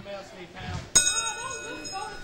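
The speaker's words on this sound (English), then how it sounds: "Ring the bell." A wrestling ring bell is struck once at a championship wrestling show, giving a sharp metallic clang that rings on with a lingering, slowly fading tone, with voices murmuring before and around it.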